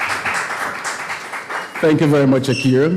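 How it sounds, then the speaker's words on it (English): Applause for a government tourism and culture minister at a concert press conference: a broadband clatter of clapping for just under two seconds, then someone speaking over the tail end of it. "Let's give him a round of applause."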